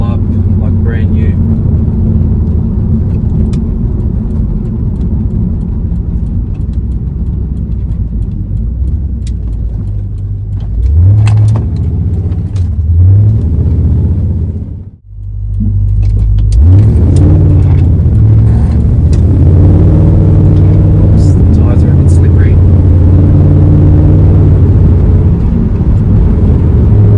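An HSV VT Senator 220i rumbles loudly from inside while driving, engine droning with gear changes and rising revs, a brief lull midway, and someone talking over it.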